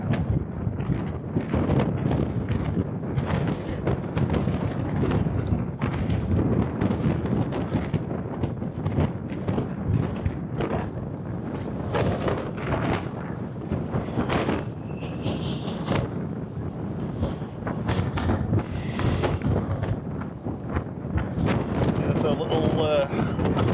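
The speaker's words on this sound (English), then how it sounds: "Wind was blowing the camera." Wind buffets a camera microphone at an airport, a loud close rumbling roar that gusts and flutters continuously, with a voice speaking faintly underneath.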